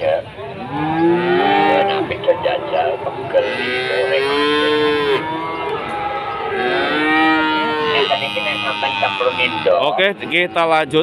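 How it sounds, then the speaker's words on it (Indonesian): Cattle, including young calves and Simmental and Limousin crosses, moo repeatedly at a busy livestock market in Pati, with long drawn-out close calls overlapping one another while someone talks briefly and crowd murmur sits beneath. "Ini ada sapi pedetan lagi, teman-teman."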